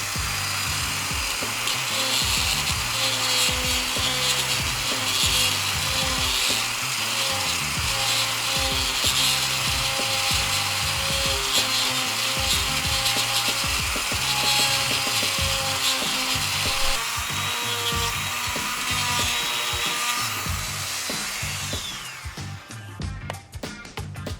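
A rotary tool fitted with a number 502 flat wheel grinds into a ski boot shell, giving a steady, loud, continuous whine with a scraping texture that runs for most of the span before tapering off near the end.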